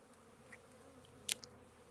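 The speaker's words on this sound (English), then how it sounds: "Lots of bees in here." Honeybees hum inside an opened spring hive, a low, even drone close by with a couple of brief sharp clicks or knocks partway through.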